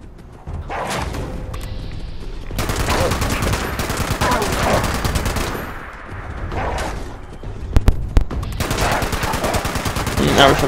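A light machine gun in a post-apocalyptic shooter rattles off long sustained bursts of rapid automatic fire, loud and close, with brief pauses between volleys and a couple of sharp impact thumps.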